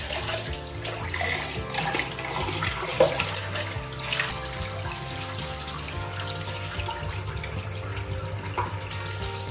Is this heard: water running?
yes